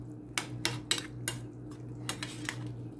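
Utensil scraping and clinking in a pot of bow tie pasta and ground beef, a handful of sharp metallic strokes in a loose rhythm over a steady low kitchen hum, with no talking.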